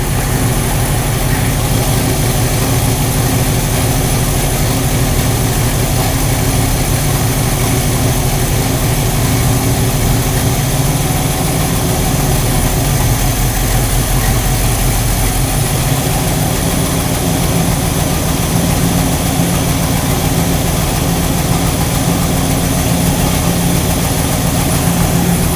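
A 1969 Chevy engine idles loud and close during timing adjustment, a dense, constant rumble that shifts pitch slightly partway through as the motor smooths out. No voices are heard.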